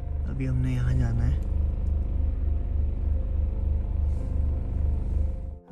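A car on a road near a hillside farmhouse in the Shimla area is driven and brought to a stop for parking. Its steady, close engine rumble runs throughout, a voice is briefly heard near the start, and the engine cuts off at the very end.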